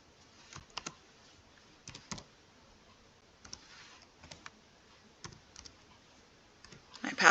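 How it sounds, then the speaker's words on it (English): Someone types a password on a computer keyboard, producing short clusters of quiet close key clicks separated by brief pauses, ending in a slightly louder burst of keystrokes. "I have to put my password in"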